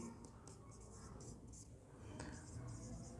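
Writing on a board during a classroom reasoning lesson: soft, rhythmic scratching strokes in short bursts, faint and close, with low speech underneath.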